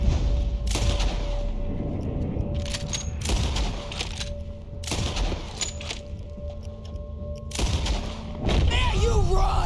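Gunfire in the Western video game Red Dead Redemption 2: several loud, sharp shots a few seconds apart over a steady background of game ambience and a faint sustained tone.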